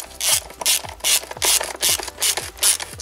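Torque wrench ratcheting on valve cover bolts of a BMW E46, a rapid series of close, loud ratchet clicks in regular strokes with no talk.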